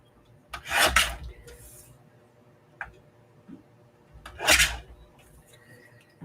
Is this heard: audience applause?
no